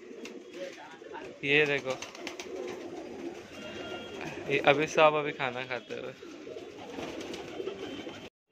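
Domestic pigeons in a home loft coo in short bursts, a few throaty calls standing out near and clear while a person talks over them throughout.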